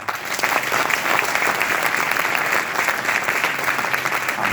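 Audience applause fills a hall, steady dense clapping at fairly loud level throughout, with a faint murmur of the crowd beneath.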